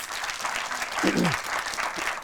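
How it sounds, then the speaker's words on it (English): Live audience clapping fills a large venue at an evening leadership event, a continuous crowd patter at moderate distance with a brief voice-like murmur rising over it partway through. "Give yourself a big hand of applause"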